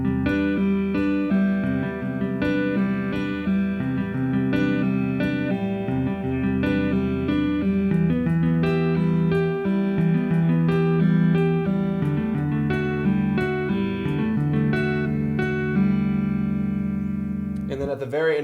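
Slowed-down progressive metal guitar playing dense runs of sixteen-note groupings, sustained harmonic tones layering continuously at steady loudness with a brief pitch bend at the end.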